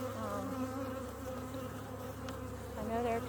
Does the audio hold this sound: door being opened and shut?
no